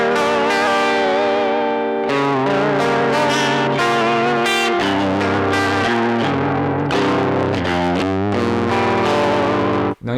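Electric guitar played direct through a tape emulation unit with its wow and flutter modulation pushed to an extreme, giving wobbling, warbling chords and melodic lines over about ten seconds; loud, close and continuous with no voices.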